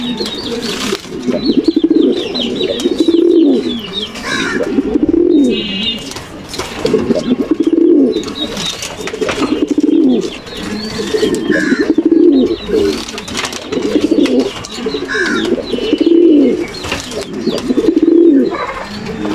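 A red checker racing pigeon pair coos in repeated low, throaty rolling calls at a steady rhythm, close and loud, with some faint flutter and chirps in the background.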